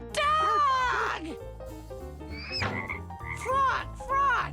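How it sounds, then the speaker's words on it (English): A cartoon frog croaks in several loud, close bursts over bouncy children's music in a toddlers' animal-learning cartoon, with cheerful voices calling out between the croaks. "Frog! Frog!"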